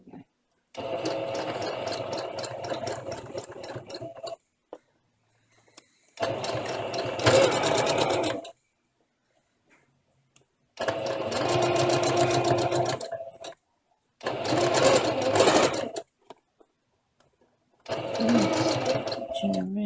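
Sewing machine stitching around an embellished ribbon, running in five distinct bursts of steady mechanical whirring separated by silent pauses, close by, with occasional speech between runs.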